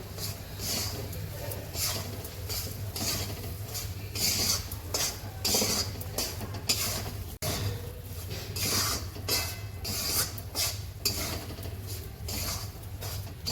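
A utensil scrapes and stirs wheat and urad flour as it roasts in a metal pan, with steady rhythmic scraping and clinking throughout and a low hum underneath.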